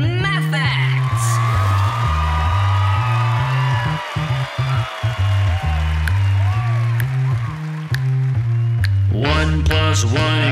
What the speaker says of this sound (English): Ladies and gentlemen, please give a round of applause to Meet the Math Facts.